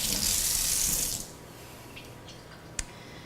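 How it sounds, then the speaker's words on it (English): A spoon being rinsed under a running kitchen tap, a loud, close rush of water for about a second, then the flow cuts off and a single sharp click follows. "I'm just gonna rinse off my spoon"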